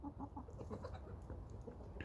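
A hen clucks in a series of short, close calls with a steady, busy farmyard background behind it.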